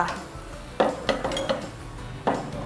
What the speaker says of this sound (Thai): เราจะคั่วให้หมูเราสุกนะคะ